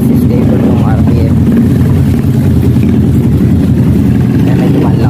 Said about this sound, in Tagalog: Ayan, mas stable yung RPM nya.